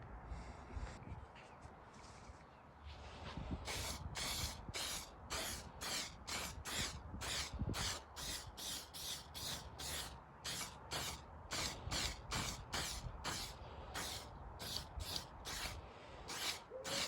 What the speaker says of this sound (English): let's spray the lacquer on